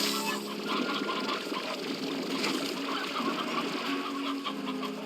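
Chickens cluck continuously in the video game Slime Rancher, a busy, dense flock chatter with a water-like backdrop, fairly loud and steady throughout, with no talk over it.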